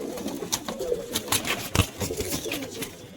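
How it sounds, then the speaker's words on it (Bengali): Pigeons kept for sale coo in a loft, a few soft low coos and wing or body rustles close by, with light background noise. "সেলের জন্য আছে পায়রা দুটো"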